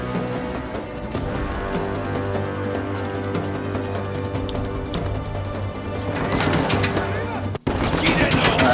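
Gunfire from a larger weapon in the video game Uncharted 4, a steady stream of shots over a constant game soundtrack hum, turning into louder, denser bursts near the end.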